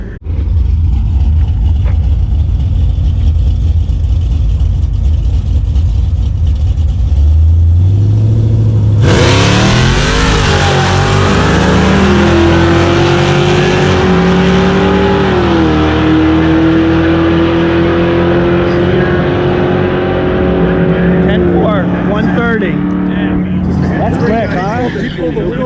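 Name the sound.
Dodge Charger R/T 440 stroker V8 engine revving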